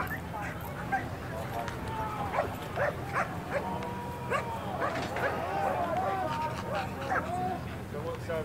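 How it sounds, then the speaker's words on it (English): A dog barks repeatedly with yips among a crowd at a morning protest gathering in Canberra, the barks sharp and fairly close over steady background chatter and voices. "This dog's ready to go."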